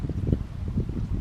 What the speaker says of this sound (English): You hear it popping away and the water coming out on the other side.